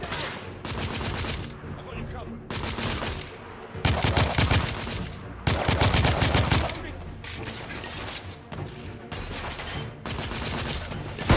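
Gunfire in The Order: 1886, loud bursts of automatic fire in a series of separate volleys, broken by short pauses, with other game sounds between.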